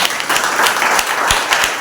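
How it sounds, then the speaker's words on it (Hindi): A church congregation at a Sunday service claps in welcome, a brief burst of close, even applause from a roomful of people. "क्यों ना हम उनको तालियों के साथ स्वागत करें।"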